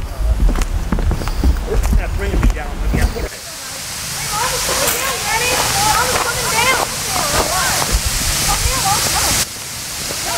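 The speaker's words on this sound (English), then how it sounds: "We're at the Bass Pond and the waterfall on Biltmore Estate." A small waterfall at the Bass Pond on the Biltmore Estate gives a steady, broad rush of falling water, first under nearby footsteps and rustling, then with people talking over it.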